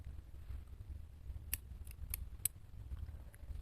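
Scissors snip crochet yarn tails on a small amigurumi heart keychain, giving four or five short, sharp metallic clicks in a quick sequence, close and quiet over faint room hum.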